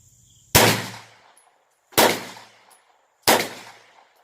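Three loud, sharp 9mm pistol shots from an MPA 20DMG, fired alone about a second and a half apart, each with a short decaying echo.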